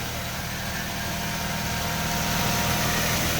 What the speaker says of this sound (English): It's been a long time since I heard the exhaust go through the exhaust system.